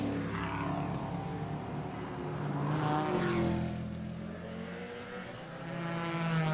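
Trans Am race cars, including a Camaro and a BMW, roar around the Mid-Ohio circuit. Engine notes rise and fall as cars sweep past at a distance, with one louder pass midway.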